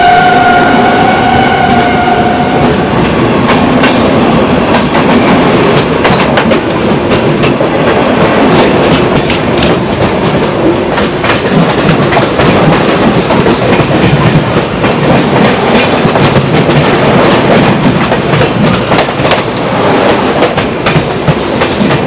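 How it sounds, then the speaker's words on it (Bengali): The NJP–Howrah Vande Bharat train passes very close and loud beside a moving train, a continuous roaring rush of wheels and clickety-clack rail noise lasting over twenty seconds, with a brief whine early on. "আর এক্ষুনি কিন্তু এনজিপি হাওড়া বন্দে ভারত ক্রস করবে।"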